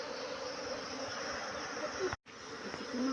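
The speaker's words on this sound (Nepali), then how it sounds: "मौरीलाई चाहिँ डिभाइड गर्नु हुँदैछ।" Honeybees buzz steadily in a dense, continuous drone at an old hive being split into two colonies, close and fairly loud, with a brief gap near the end.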